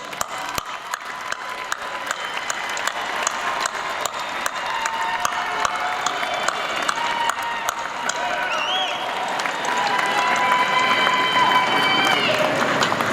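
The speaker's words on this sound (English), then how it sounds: "give your loved ones, your family, your friends a big round of applause for all of their support" A large audience at the Burrell College of Osteopathic Medicine 2022 graduation ceremony breaks into sustained applause. The dense clapping swells slightly toward the end, with occasional whistles and cheers over the crowd.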